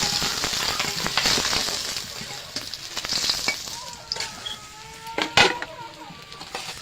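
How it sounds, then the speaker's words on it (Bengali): Pieces of fish fry in hot oil in a pan, a dense crackling sizzle that runs throughout with sharper pops and spits near the end. "মাছটা আমি উল্টে পাল্টে ভেজে নেব।"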